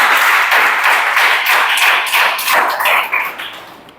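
Students in a classroom break into a burst of enthusiastic clapping, many hands at once, loud and close, fading out over about four seconds.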